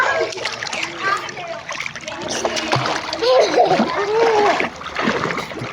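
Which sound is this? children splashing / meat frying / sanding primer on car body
children splashing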